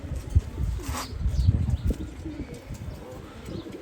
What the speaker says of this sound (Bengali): আমার হাতে দেখতে পাচ্ছেন একটা মাক্সি ফিমেল কবুতর